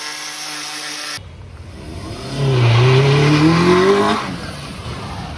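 A Maruti Zen car engine turns over and catches, then revs up loudly for a couple of seconds before settling back to a steady idle.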